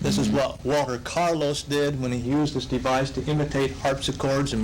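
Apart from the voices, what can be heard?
No everyday noise stands out behind the speech.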